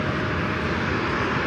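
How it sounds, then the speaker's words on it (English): A Delta Boeing 757 roars through its takeoff at LAX, a loud, steady, broadband jet rumble that fills the whole span without a break or any voices over it. "Should have that Delta 757 coming up here shortly."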